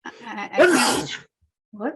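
A single sneeze bursts out from someone during a regional school district planning board meeting, loud and close, followed by a brief murmured remark and a short pause.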